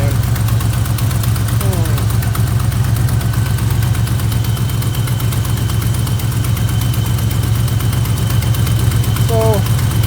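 Steady idle of a 1976 Plymouth Gran Fury wagon engine, a constant low rumble running through the whole stretch with a brief higher whine near the start and again near the end.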